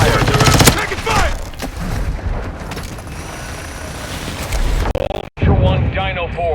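Bursts of automatic gunfire and booming shots from the Call of Duty MWII DMZ video game, dense and loud at first, then continuing under radio voice callouts.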